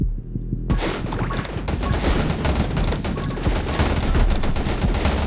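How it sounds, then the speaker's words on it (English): Nonstop rapid gunfire from the video game 20 Minutes Till Dawn, a dense, loud barrage of shots with no gaps, starting just after a brief quiet moment. "pretty much have a constant barrage of fire"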